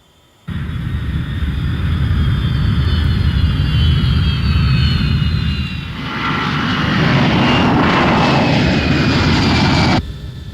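Fixed-wing airplane cruising at about 30,000 feet, a loud continuous engine roar with a whining tone that dips briefly midway and then swells again before cutting off, no talk.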